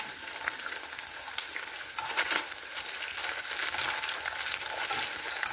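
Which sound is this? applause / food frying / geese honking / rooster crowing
food frying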